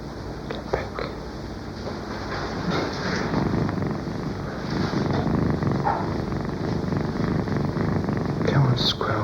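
Several kittens purr in a steady low rumble beneath rustling, with a squirrel buried among them; the purring runs continuously at a soft, close level, broken by a few faint clicks and brief brighter squeaks.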